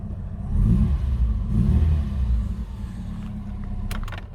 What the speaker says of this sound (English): always comment on just how sweet the engine sounds